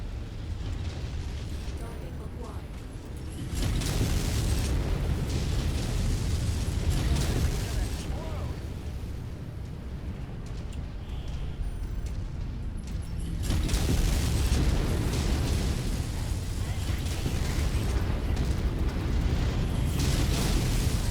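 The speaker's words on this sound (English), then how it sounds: "He walked right into that explosion." Explosions in MechWarrior 5: Heroes of the Inner Sphere, heard as loud, rumbling booms amid dense mechanical battle noise, with two heavy surges of sound over a continuous din.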